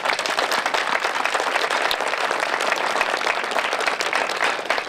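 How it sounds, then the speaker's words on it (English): Steady, full audience applause at a flag raising at Fresno City Hall welcomes MC Debbie Poochigian, a dense continuous clatter of many hands that holds evenly for the whole stretch. "Please, ladies and gentlemen, give a round of applause to Debbie Poochigian."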